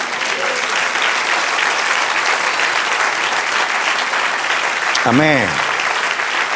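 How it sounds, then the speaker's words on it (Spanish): Sustained applause fills a church service, a loud, steady wash of clapping from the congregation, with a voice calling out briefly near the end. "Del otro aplauso al Señor."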